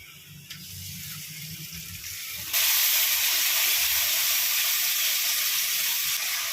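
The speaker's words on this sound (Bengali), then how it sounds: "এবার আমি আদা পেঁয়াজ রসুন কাঁচা লঙ্কা বাটা আর ধনে জিরে লঙ্কা গুঁড়ো আমি এটা দিয়ে ভেজে নেব, কষিয়ে নেবো তো মশলাটা।" Ginger, onion, garlic, green chili paste and ground coriander, cumin and chili powder fry in hot oil for a Kashmiri potato curry, a steady close sizzle that swells abruptly louder partway through and then holds as a dense, continuous hiss.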